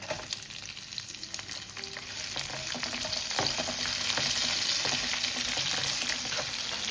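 Onion, ginger, garlic and dried red chillies sauté in a pan for a Kerala chutney, a steady frying crackle that grows louder over a few seconds, with scattered stirring scrapes and no speech.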